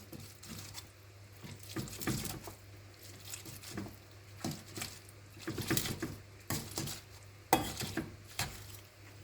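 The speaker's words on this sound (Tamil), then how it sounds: "இந்த தவ்வை முதல்ல நான் மேஷ் பண்ணிக்க போகிறேன்." Tofu is mashed in a kitchen bowl, producing soft, irregular squishing and occasional utensil scrapes and taps close by, with no talking.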